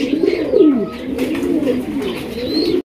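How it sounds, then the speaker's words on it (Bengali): A pair of black Bombay pigeons coo steadily at close range, their low throaty calls rolling on continuously with a faint chirp above. "এখানে রয়েছে একজোড়া ব্ল্যাক বোম্বাই কবুতর দেখতেই পাচ্ছেন"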